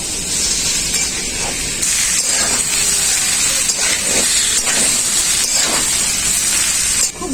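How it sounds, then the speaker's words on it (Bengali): Fried potato and papaya sauté with mung dal and spices in a hot pan, producing a loud, continuous hissing sizzle with repeated soft scraping strokes. "খুব ভালো করে আলু আর পেঁপেটাকেও কষিয়ে নেবো"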